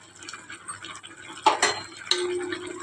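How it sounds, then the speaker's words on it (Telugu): Paneer biryani masala with fried onions and cashews is stirred in a metal pot, giving a few soft scrapes and a couple of sharper clinks of the spoon against the pot, fairly faint and close, without talk. "ఒకసారి కలపాలి బాగా"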